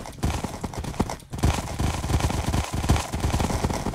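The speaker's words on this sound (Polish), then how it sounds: "O, wyścig konny." Several horses race in Minecraft, their hooves clattering in fast, dense, overlapping clip-clop rhythms close up and fairly loud, with no talk over them.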